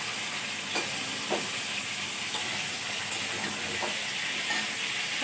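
Potatoes, pumpkin and eggplant frying with dried chilli and bay leaf tempering in a pan: a steady close sizzle with occasional scraping stirs, no voices.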